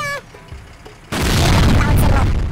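Explosion in the Worms Armageddon video game, a sudden loud booming blast after a short descending whistle, the rumble sustaining to the end.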